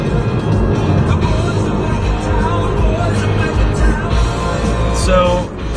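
A Dodge Caliber rental car driving on a road near Breckenridge, heard from inside as a steady, loud broadband road and engine rumble that continues throughout with slight swells.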